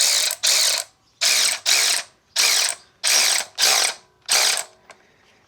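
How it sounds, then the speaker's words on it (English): Ratchet wrench tightening down rubber blocks on a custom orange-painted tractor lifting and pushing plate, heard as six or seven close, loud bursts of rapid clicking separated by short pauses, with no talk. "Let's go ahead and tighten down the rubber blocks."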